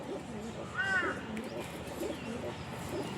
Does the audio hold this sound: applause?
no